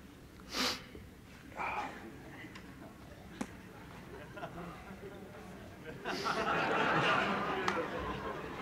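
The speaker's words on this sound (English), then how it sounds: "I've got to blow my nose." A person blows their nose in a few bursts: one sharp honk, a softer snort a second later, then a longer, rougher blow near the end, against a quiet room with faint ticking.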